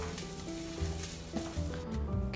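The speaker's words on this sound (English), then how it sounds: "we're gonna take those onions and we're gonna cook them in our pan here" Onions sizzle steadily in hot avocado oil in a pan, a constant close crackle with a few soft stirring scrapes and no talk.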